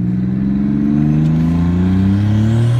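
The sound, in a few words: twin turbo 3800 Camaro accelerating hard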